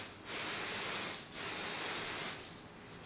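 A water stream from a pressurized fire extinguisher can, fanned by a finger over the nozzle, makes a broad hissing spray in three sustained bursts with brief drops between them, close and steady, with no voices.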